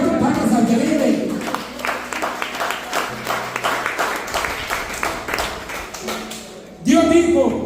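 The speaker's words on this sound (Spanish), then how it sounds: "dele cuatro palmas al que vive" A church congregation at a Mennonite service claps in steady rhythmic bursts, loud and sustained for several seconds, fading briefly before a final swell of clapping and a voice.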